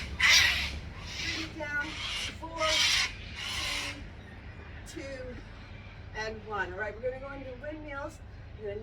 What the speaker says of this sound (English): we got some noisy birds this morning